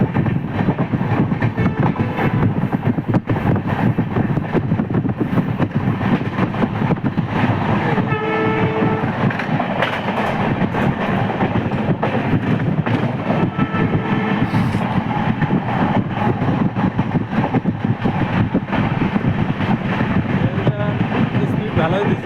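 A passenger train runs steadily along a railway past industrial areas and railway quarters, its continuous loud rumble and rattle filling the whole stretch, with brief horn-like tones midway and scattered voices talking underneath.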